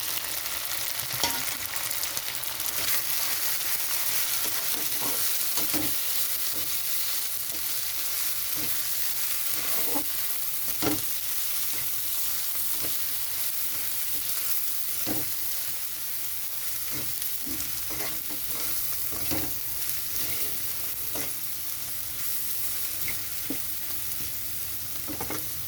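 Spices fry in a pan for a dried-fish dish, a dense continuous sizzle punctuated by irregular scrapes and knocks of stirring, close and steady throughout with no talking.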